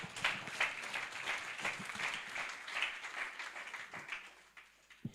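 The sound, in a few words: congregation applause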